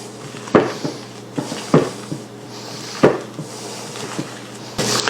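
A spoon scrapes and knocks against a bowl while stirring egg whites into a thick chocolate mixture for a keto chocolate yule log cake: a few distinct clacks with softer rubbing strokes between them, close up and without talk.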